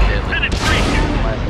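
A Cromwell tank's cannon fires in a tank video game and hits an enemy vehicle, a loud, close, booming blast with a rushing rumble that fills the whole moment, while a voice shouts over it.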